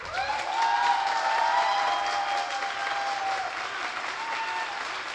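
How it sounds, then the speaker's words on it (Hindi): An indoor audience at an anniversary gathering applauding, a steady wash of clapping from many hands that stays fairly even throughout with a slight swell early on. "तो एक बार और अपने लिए ताली बजाइए"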